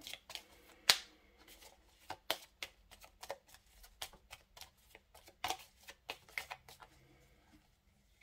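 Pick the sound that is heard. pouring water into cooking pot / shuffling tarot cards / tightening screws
shuffling tarot cards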